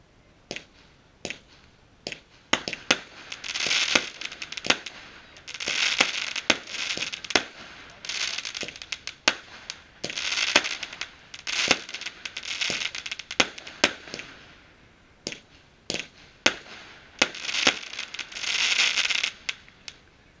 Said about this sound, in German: Kräftige blaue Kometen mit Knattersteinen, helle rote Kometen mit Verwandlung zu roten Sternbuketts sowie rote Kometen zu blauen Sternbuketts.